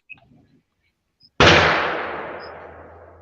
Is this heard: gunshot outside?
yes